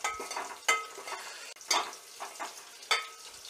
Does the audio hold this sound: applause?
no